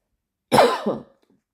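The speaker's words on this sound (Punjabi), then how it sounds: "ਮਾਫ ਕਰਿਓ ਖਾਂਸੀ ਸ਼ੁਰੂ ਹੋ ਗਈ" A single close, harsh cough bursting out once, lasting about half a second and trailing off, with silence before and after.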